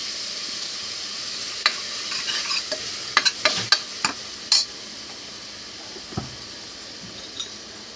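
Tomatoes and onions frying and being stirred in a pan for chicken kurma, giving a low steady sizzle with a run of sharp spoon scrapes and clinks against the pan in the middle, then quieter sizzling.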